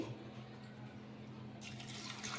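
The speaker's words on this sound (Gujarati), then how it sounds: "મને પાણી થોડું ઓછું લાગે છે તો આપણે થોડું પાણી વધારે એડ કરી દઈએ" Water is poured into a pressure cooker pot holding dates and tamarind for a sweet-sour chutney, a steady close splashing that swells louder near the end over a low kitchen hum.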